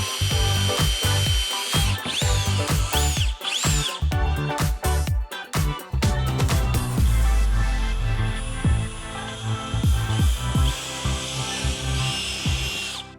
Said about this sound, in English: we're gonna drill out these little marks with a